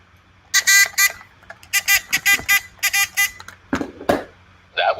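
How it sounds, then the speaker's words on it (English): A game-show style buzzer pressed repeatedly during a live stock-market stream, giving loud bursts of harmonic buzzing in quick clusters, followed by a short thump and a brief voice-like sound. "Where's the buzzer?"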